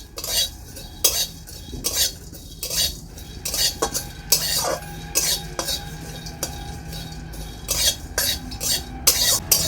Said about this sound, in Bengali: মশলাগুলো আমি হালকা নেড়ে চেড়ে নেব।